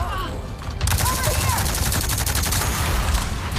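Sustained rapid gunfire in the video game Avatar: Frontiers of Pandora, a loud continuous barrage that starts abruptly after a quieter opening moment, with no clear speech over it.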